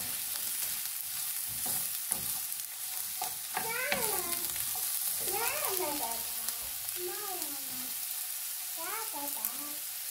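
Broccoli, zucchini and mushrooms sauté in an oiled pan, giving a steady close sizzle with stirring scrapes. Tonal, wavering sounds like a background voice or cat rise over it.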